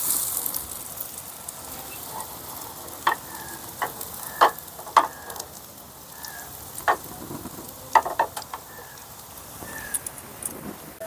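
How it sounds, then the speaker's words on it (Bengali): Bean kebabs fry in mustard oil with a soft, steady sizzle, broken by scattered sharper pops and spatters, close and fairly quiet, no talking. "আমি এখানে সরষের তেলে ভেজে নিচ্ছি"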